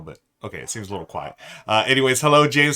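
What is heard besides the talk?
None of the usual background noises is heard.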